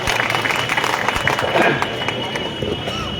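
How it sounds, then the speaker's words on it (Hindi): A crowd claps steadily at a Congress party election rally for an office inauguration in Rampur, with a dense, even wash of applause and murmuring voices throughout. "जोरदार तालियों से स्वागत करें"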